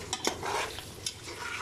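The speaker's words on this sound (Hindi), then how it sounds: "गोश्त को भी भून लेंगे अच्छी तरह से" Half a kilo of mutton is stir-fried in a pan for haleem, with a soft sizzle under scraping spoon strokes and a few sharp clinks of utensil against the pot.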